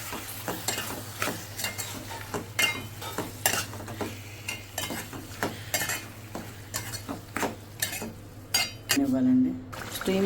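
Chicken pieces stirred in a hot pan with coriander powder, garam masala, salt, chili and turmeric: repeated scraping spoon strokes and clinks against the pan over a soft steady sizzle, with a brief voice near the end.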